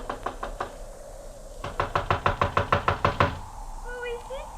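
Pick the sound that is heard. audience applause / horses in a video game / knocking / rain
knocking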